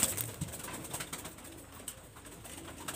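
Red-eyed pigeon released by hand, soft wing flutters and low cooing with a few sharp rustles and clicks, close and fairly quiet, no talking.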